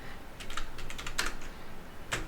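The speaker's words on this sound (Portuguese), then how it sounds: "Vamos dar um Enter, colocar a senha" Password being typed on a computer keyboard during a Linux printer setup, a quick burst of light key clicks in uneven clusters followed by a sharper keystroke near the end, close and quiet, with no voices.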